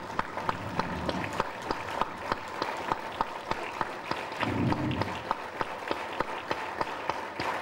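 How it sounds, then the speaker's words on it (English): Loud applause from a lecture audience giving a standing ovation, many hands clapping in a fairly even rhythm with distinct sharp claps, and a brief low rumble of movement midway. "acknowledge with a loud applause and a standing ovation"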